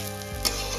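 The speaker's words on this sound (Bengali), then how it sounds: "এবার দিয়ে দেবো চালটা, আরও 10-5 মিনিট মতো নাড়াচাড়া করবো।" Rice for pulao sizzles in a hot pan as it is stirred, a brief close crackling fry with a soft scrape partway through.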